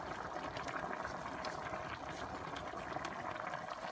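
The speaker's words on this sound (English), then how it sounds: "we're gonna let it simmer for a few more minutes" Pork sinigang broth simmering in a pot, a steady close bubbling and gentle boiling hiss that runs evenly throughout with no talk.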